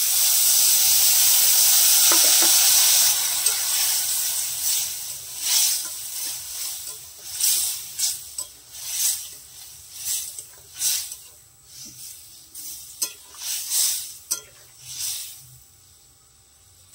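Boiled vegetables, including elephant foot yam, sizzle in a pot for a fish curry as a little water is added. A loud, steady hiss opens, then breaks into pulsing bursts of sizzling and stirring noise, close up with no talking.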